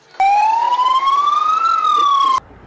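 A single loud emergency siren wails at the scene of a crash where a truck with failed brakes rammed a shop. It is one long rising and falling tone that starts and stops abruptly.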